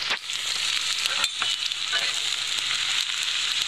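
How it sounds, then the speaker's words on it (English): Onions saute in real butter in a pan, a steady close sizzle and crackle with occasional stirring scrapes throughout, alone without talking. "I'm gonna go ahead and put my onions in, saute them in the butter"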